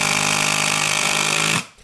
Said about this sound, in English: I'm going to do an impact driver wobble test in this short video